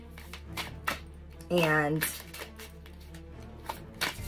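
Tarot cards being shuffled, heard as soft, quick flicks and riffles beneath someone talking close to the microphone.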